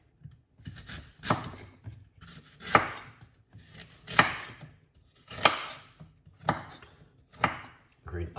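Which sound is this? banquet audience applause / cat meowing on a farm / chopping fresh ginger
chopping fresh ginger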